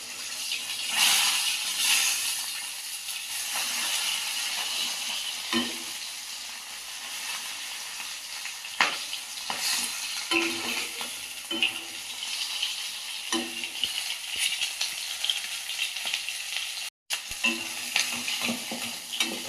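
Fish heads fry in hot oil in a kadai, giving a continuous loud sizzle and hiss, broken by intermittent scrapes and clinks of stirring.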